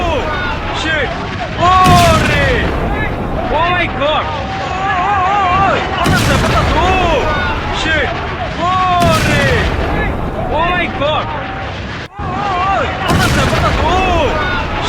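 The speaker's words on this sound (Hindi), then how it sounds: "भीषण भीषण बमबारी है ये" Heavy bombing at an oil and gas refinery: a steady roar of fire and blasts with repeated loud booms every few seconds, while agitated voices shout and talk over the din.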